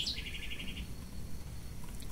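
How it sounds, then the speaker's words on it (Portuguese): Small birds chirp outdoors after overnight rain: one brief, high, rapid trill at the start, then only a faint, quiet background. "Aqui tem passarinho, muito passarinho, muito passarinho."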